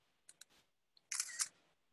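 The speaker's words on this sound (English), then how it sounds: "That was me taking attendance if you heard that. Camera, shutter." A camera shutter fires during an online class: two small clicks, then a louder, brighter mechanical shutter burst, close and isolated against near silence, with no talk.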